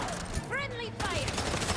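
Gunfire in the Spider-Man 2 game for PS5, dense rapid shots forming a loud, steady barrage with a brief shouted voice partway through.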